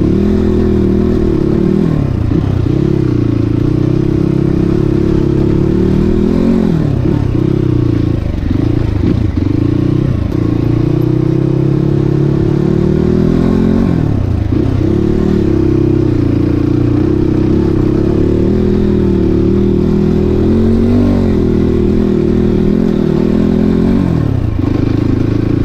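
A motorcycle rides an offroad sandy village track, the engine droning steadily close up with repeated rises and falls in pitch as the throttle changes, plus some scraping and clatter.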